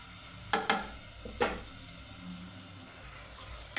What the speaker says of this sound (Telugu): టమోటా ముక్కలు కూడా అంతా బాగా కలిపి ఉడికించుకుందామండి